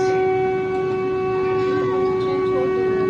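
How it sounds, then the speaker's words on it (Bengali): The Howrah–Ranchi Vande Bharat Express 20897 starts pulling out of the Howrah platform, giving a loud, steady electric hum with sustained tones and a faint rumble beneath. "ট্রেন চলতে শুরু করেছে।"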